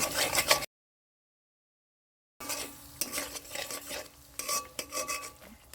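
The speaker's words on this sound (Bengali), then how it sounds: "ভালো করে নাড়াচাড়া করে মিশিয়ে দিচ্ছি।" Bitter gourd and pointed gourd are stirred in a pan with milk added, a close sizzling hiss with scraping and clattering of a spatula, broken by a stretch of total silence before the stirring resumes.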